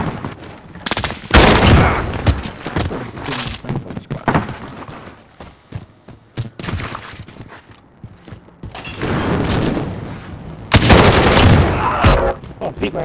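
Gunfire in Call of Duty Modern Warfare hardcore free-for-all on the Killhouse map, with loud, close bursts of automatic fire separated by quieter gaps and thuds.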